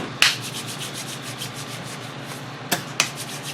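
A wooden bow-less hand drill spins in the notch of a fireboard for a friction fire, giving a steady, soft rhythmic rubbing with a few sharp knocks and clicks, close up and with no talking.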